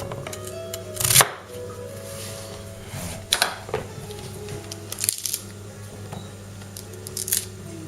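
A Tops Lite Trekker survival knife chopping celery in a food-prep setting: a few sharp separate crunching chops spaced a couple of seconds apart, close and fairly crisp over a quiet background.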